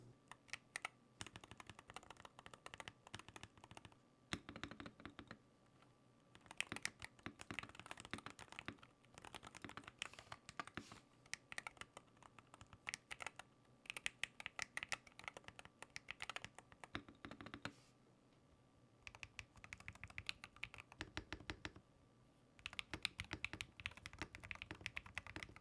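Keystrokes on a Sikakey HM 80 keyboard fitted with Gateron Jade Pro switches and PBT keycaps, a steady stream of close, crisp typing in fast bursts broken by brief pauses, with no talking.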